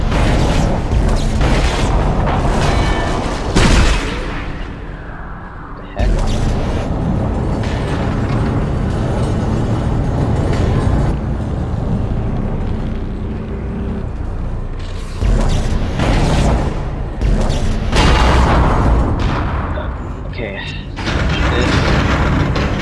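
The Marker, a large alien relic in the Dead Space video game, is hauled along with heavy grinding mechanical creaks, clanks and booms that run almost continuously, broken by a few brief pauses, with voices mixed in.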